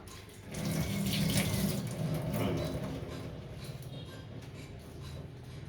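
A kitchen water tap runs steadily into a sink while bay leaves are rinsed during home cooking, a broad continuous splashing hiss that stays close and fairly loud for the whole stretch with no talking.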